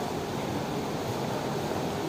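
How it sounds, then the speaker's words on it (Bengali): Rough waves churning on the Ganges river in rainy weather, a continuous loud rushing wash of water mixed with wind noise, steady throughout with no talking. "উত্তাল ঢেউ উঠেছে গঙ্গা বক্ষে"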